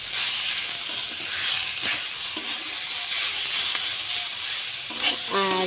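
Fried potatoes stirred into leftover rice crackle and sizzle continuously in a pan, with occasional spoon scrapes and a clatter near the end. A faint voice can be heard briefly under the frying.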